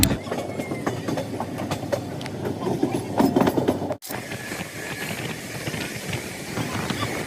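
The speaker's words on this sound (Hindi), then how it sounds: "हमारी रेल पहाड़ी का सीना चीरती हुई" A passenger train runs through hilly country in the rain with a steady rumble, rhythmic clatter and hiss heard from on board. A sharp break halfway through is followed by a slightly different, continuing rolling noise.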